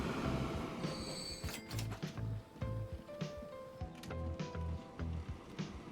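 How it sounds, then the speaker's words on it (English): Food and steel freight trains pulling into a station in the game Transport Fever 2: rhythmic wheel clatter, squealing brakes and tonal whines over a steady rumble, with no talking. "here's our food train showing up, our steel train"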